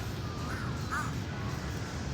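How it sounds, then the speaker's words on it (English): A few crows caw in a Bangkok park during a downtown walk, two brief distant calls faint against steady broadband outdoor noise. "there are so many ravens or crows"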